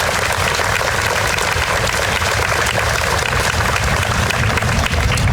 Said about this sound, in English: can we get a round of applause for Mr. Mitchell Moranti?